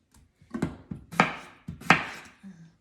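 A knife chops potatoes into chunks on a cutting board, four or five sharp, distinct thunks in an uneven rhythm, close up with no talking.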